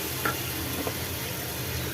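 Soft, steady sizzling of tomatoes sautéing in a pan, with a couple of light scraping stirs.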